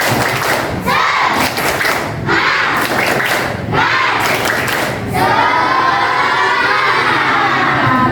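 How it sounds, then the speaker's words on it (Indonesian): Schoolchildren in a classroom clap a rhythmic spirit pattern, several sharp bursts of claps broken by short pauses, then end in a loud shout, all close and energetic. "Bu Yayu mau cek kalau masih semangat, tepuk semangat."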